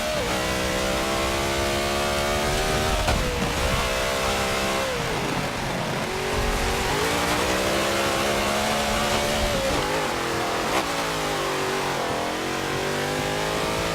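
A BMW Z4 GT3 race car engine in Forza Motorsport 7 revs up and down through gear changes, its pitch repeatedly climbing and dropping as it accelerates and brakes around the track, loud and continuous.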